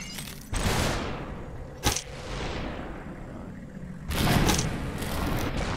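SuperHot gameplay gunfire: three sharp shots spaced a couple of seconds apart, each trailing off into a noisy decay, loud and near, with no voices.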